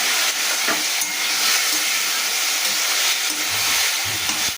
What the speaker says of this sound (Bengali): এবার আমি এটা খুব ভালো করে কষাবো